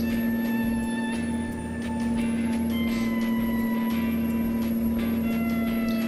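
A truck engine in the Euro Truck Simulator video game drones steadily at a constant pitch, loud and close. A sustained high whine and faint beeping tones sit above the engine note.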